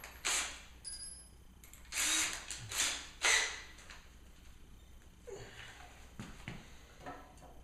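A step drill bit cuts a marked hole during a Jeep build, the drill whining in several short bursts of a second or so with pauses between, close and fairly loud, followed by quieter handling and clicking noises.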